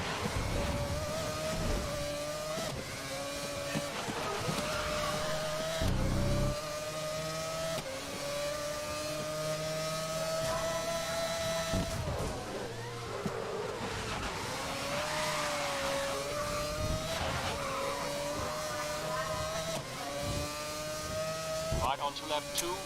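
A race car engine in the Grid racing video game drones steadily throughout with shifting revs, over continuous game music and effects, while a person talks over it.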